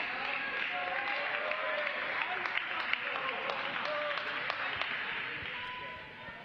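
A decent crowd applauds at a Miami vs Syracuse college tennis match, the clapping steady and moderately distant with scattered sharp claps, then fading near the end, while a commentator talks over it.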